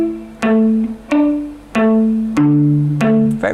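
Solo guitar plucking an arpeggiated pattern, about five clear picked notes ringing out in a steady, even rhythm, close and fairly loud with no voice over it.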